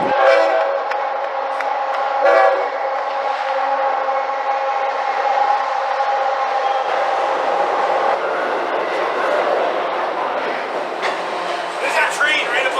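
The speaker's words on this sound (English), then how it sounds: "the train rolled up and we got to see the train" A train rumbles and rattles close by overhead at Jensen Beach, a steady roar with clanking wheels, while voices chatter faintly underneath.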